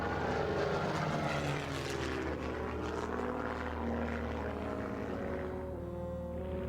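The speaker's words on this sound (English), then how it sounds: "the lightning-quick Messerschmitt 109 fighter, considered the most deadly aircraft in the world" Engine drone of a Messerschmitt 109 WWII fighter plane: a loud, steady propeller roar that holds and slowly fades slightly toward the end, heard alone without talk.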